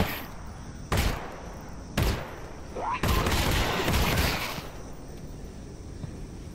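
Pistol shots in the VR game Half-Life: Alyx: several sharp, loud reports spaced about a second apart, the last one followed by a longer rumbling tail.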